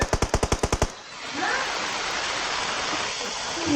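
A rapid burst of about eight evenly spaced automatic gunshots in the shooter game PUBG, loud and close, followed by a steady rushing hiss of ambient game noise.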